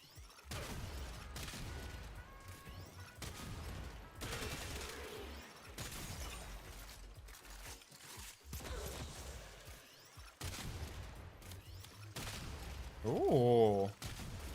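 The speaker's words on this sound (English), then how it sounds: "Oh, there's an alternate fire." A weapon's alternate fire in the video game Techrot Encore, bursts of gunfire and mechanical clatter repeating in short bursts, with a louder tonal sweep near the end, while someone talks over it.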